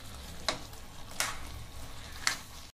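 Sweet lentil filling with jaggery is sautéed in a pan until dry, a quiet low sizzle running throughout, broken by three sharp scraping strokes of a spoon.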